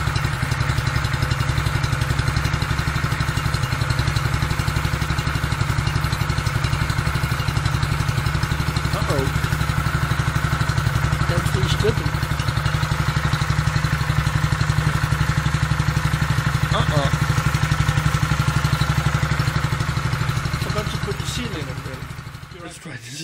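A Fejemaskine motorized broom's small engine runs steadily close by with a choke slightly reduced, a continuous low mechanical drone with light clatter throughout before it begins to fade at the very end.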